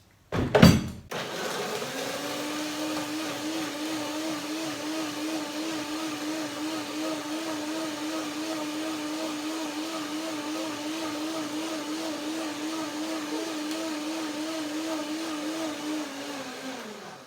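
Blender blending cashew nuts and banana with milk, starting with a short loud pulse and then a steady, evenly pitched motor whir that runs for about fifteen seconds with no talking.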